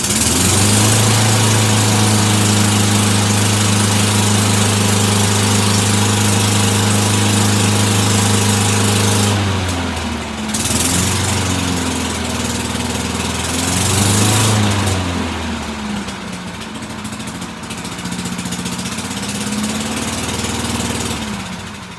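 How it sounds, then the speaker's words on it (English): An old, free Tecumseh-engined lawn mower runs loud and close with a steady droning hum, then the engine note wavers and surges up and down for the rest of the run. "All right, the mower works, but I haven't figured out the drive control."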